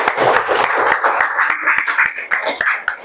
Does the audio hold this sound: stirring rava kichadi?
no